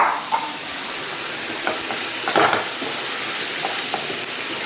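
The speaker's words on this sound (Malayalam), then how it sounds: "അതിലേക്ക് നമ്മൾ കഴുകി വെച്ച ചിക്കനാണ് ചേർക്കുന്നത്." Half a kilo of washed boneless chicken hits frying masala for a chicken pepper dry fry, giving a loud, steady sizzle and hiss with occasional spoon scrapes and stirring clatter.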